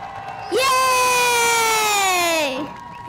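Audience at an Aquanuts synchronized swimming fall show erupts in a loud, sustained cheer with high-pitched children's shouts and whoops, swelling suddenly and holding for about two seconds before fading.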